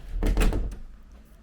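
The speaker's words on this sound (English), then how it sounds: "And then we close the bathroom door" A bathroom door swings shut in a home, giving one close, dull thud with a short rattle before the room falls quiet.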